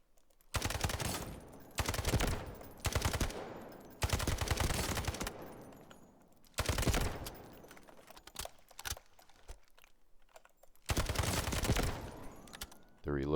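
Automatic gunfire on a Delta Force firing range, several loud sustained bursts separated by short pauses, close and dominant, with someone talking quietly in the gaps.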